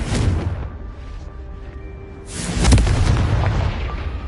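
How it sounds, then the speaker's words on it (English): The Confringo fire spell in Hogwarts Legacy detonates with heavy booming blasts, a deep explosion at the start and a second louder rumbling burst later, with reverberant decay between. "Confringo."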